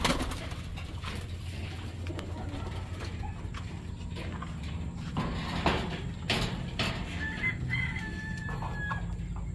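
Young pigeons cooing in a backyard loft, soft low murmurs mixed with rooster crowing and other fowl nearby, steady background hum under the birdsong.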